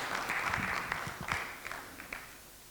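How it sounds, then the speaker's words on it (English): An audience at a panel session gives a round of applause, a full burst of clapping with a few distinct sharp claps that tapers off toward the end. "please give him a round of applause."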